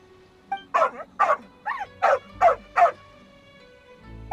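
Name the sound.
dog barking and whimpering in Genshin Impact video game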